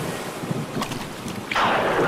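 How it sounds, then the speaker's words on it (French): A stormy sea with huge waves roars steadily under gusting wind, then a louder rushing wash of surf swells up near the end, with no voices. "une terrible tempête se déclencha soudain. La mer devint noire, le tonnerre frappa, et les énormes vagues"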